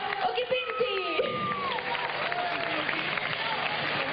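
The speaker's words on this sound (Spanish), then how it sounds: "Un fortísimo aplauso para Diego Occhipinti." Steady crowd applause and cheering fills a concert in Sueca, Valencia, a continuous even wash of clapping with some whistles rising above it, heard from within the audience.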